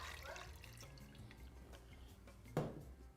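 Room-temperature water, 250 ml, poured into a pan while making an aerated corn bread (broa de milho); a faint, steady trickling and splashing that ends with a brief louder splash near the close, with no talking.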